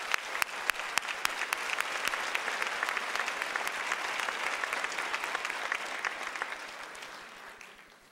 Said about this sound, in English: Let's give him a round of applause for his service.